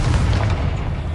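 Confringo spell explosion in the Hogwarts Legacy video game, a loud, low, rumbling boom that fills the short moment with dense close noise.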